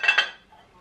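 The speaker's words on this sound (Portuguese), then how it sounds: "Vou desenformá-lo, vamos ver como é que ele ficou" A metal cake pan clinks and rattles twice in quick succession as a freshly baked cake is turned out in a home kitchen, close and bright, then fades into quiet.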